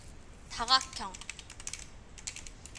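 Computer keyboard keys clack in a quick run of presses for a Photoshop shortcut, light and close, with a brief voice-like tone early on.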